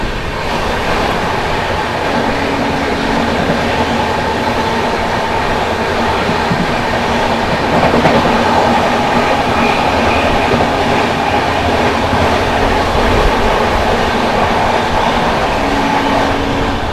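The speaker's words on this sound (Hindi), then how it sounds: "मार दिया दोस्तों ओवरटेक बरौनी गोंदिया को मिर्ज़ापुर में" A passenger train overtakes the Barauni Gondia express at Mirzapur, a loud sustained rail roar with rhythmic clatter of wheels over joints and a faint tonal whine, continuous from start to finish with no voices.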